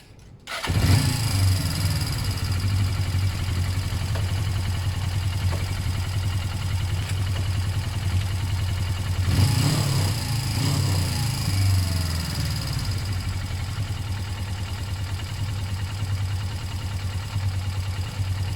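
A Suzuki GS500 motorcycle, freshly serviced, cranks and fires up, then settles into a steady, close idle with a low rumbling throb and a brief rise in revs partway through.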